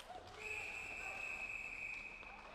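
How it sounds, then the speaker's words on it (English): Referee's whistle at an ice hockey game, one long sustained shrill blast, somewhat distant over arena crowd noise and a faint commentator voice. "And we'll get a whistle"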